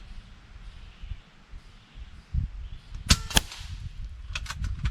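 A .22 or .25 calibre Bullboss air rifle fires a sharp, close crack with a quick metallic snap right after, over quiet outdoor background with a few faint ticks and rustles.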